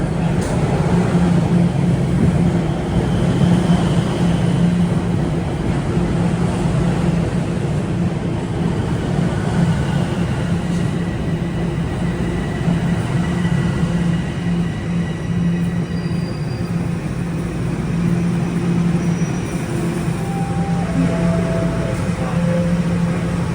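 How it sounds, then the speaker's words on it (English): Bombardier-built 2011 Toronto TTC subway train arriving at Union Station on the Yonge–University line, with a steady loud rumble of wheels and motors and faint squeals and tones near the end. "We're at Union Station on the TTC Yonge Street University Avenue line. Is one of the rocket cars coming in."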